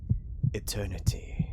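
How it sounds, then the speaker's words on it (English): Slow heartbeat thumps in the video game Far Beyond The World, soft low pulses in an even rhythm, about five beats, under a narrator's quiet spoken voice. "I somehow know it's the sound of my very own heart beating silenced"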